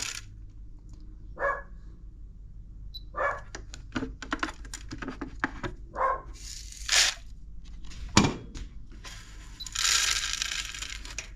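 A dog barks several times in short separate bursts on a farm, mid-distance, alongside clicky tapping sounds and quiet stretches between barks.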